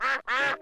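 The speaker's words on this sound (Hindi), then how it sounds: "बतखों को और खाना चाहिए।" Cartoon ducks at a pond in a Hindi-dubbed Peppa Pig episode give two loud, close quacking calls in quick succession, then begin a third, with no talk over them.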